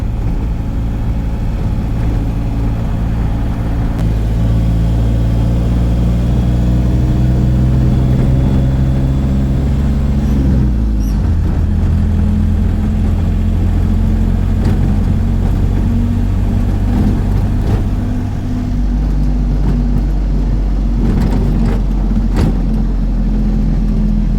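A Rajasthan-registered vehicle passes close by with a loud, steady engine drone. The pitch falls as it goes by, and another engine rumble follows, with no voices.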